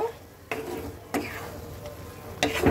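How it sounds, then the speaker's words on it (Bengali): A spoon stirs soybean curry in a pan just after garam masala paste is added, giving a few distinct scraping strokes over a low background sizzle. "গরম মশলাটা দেওয়ার পর একটু নেড়ে দেব"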